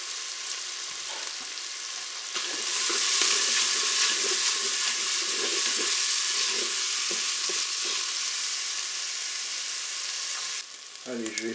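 Onion pieces fry in a Cookeo multicooker, a steady hiss of sizzling that swells after the first couple of seconds and holds evenly, close and moderately loud, with faint stirring scrapes.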